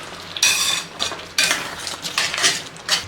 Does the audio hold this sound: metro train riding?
no